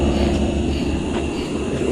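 Helicopter flying overhead at dusk in a forest, a loud, steady rotor and engine roar filling the whole moment without a break.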